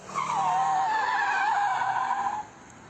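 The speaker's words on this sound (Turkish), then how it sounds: "Harmandere mahallesinde bir aracın drift atarak trafiği tehlikeye attığı tespit edildi." A car drifting through a residential neighbourhood street in Pendik, Istanbul, its tires squealing in one long, loud, wavering skid for over two seconds before cutting off.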